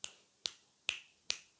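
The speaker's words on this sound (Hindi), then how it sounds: "चुटकी बजा, चुटकी।" Four crisp finger snaps spaced evenly about half a second apart, close and clear against a quiet room with no talking.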